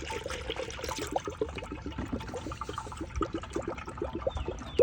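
Green coolant poured into the reservoir of a Ford Explorer ST, a close, gurgling glug of liquid with rapid bubbling pops running throughout, no talking.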